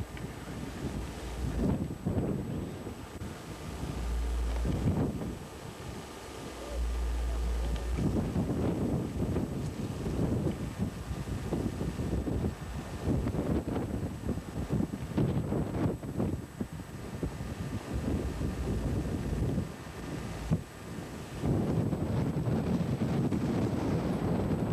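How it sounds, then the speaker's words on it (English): Strong wind buffets the microphone on a coastal cliff on the Isle of Man, roaring in long gusts with brief lulls throughout. "The wind's always blowing us onto the cliff, not off the cliff."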